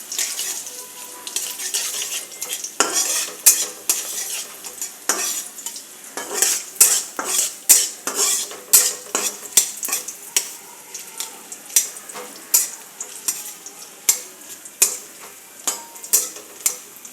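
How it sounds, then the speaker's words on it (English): Onions and carrots sizzle in a hot pan while a utensil repeatedly stirs and scrapes against the metal in an irregular rhythm. "Now I'll be putting some onions and carrots and I'll fry them."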